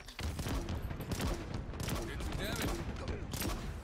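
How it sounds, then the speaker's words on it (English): Pistol fire in the Halo video game, a dense run of rapid sharp shots and bursts, loud and continuous through the short stretch. "I was just shooting with my pistol."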